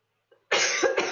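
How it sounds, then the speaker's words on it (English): A person coughing during a conversation: a faint throat sound, then one sharp, loud cough burst that breaks into a second short cough, close to the microphone, with no talk. "Thank you for coughing."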